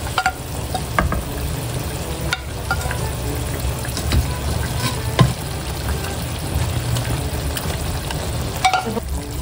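Fried fish going into a pan of hot oil, with a steady close sizzle and crackle and light stirring or clatter throughout.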